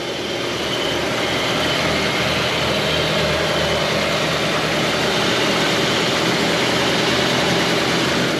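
A 1967 Ford Mustang engine idles steadily and loudly with a low, even rumble throughout, no voices.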